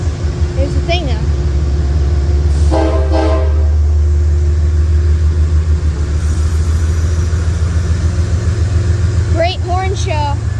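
Locomotive 209 at Cold Spring passes with a heavy, close rumble while its horn sounds in a couple of loud blasts, one early and one near the end, with people talking over the noise.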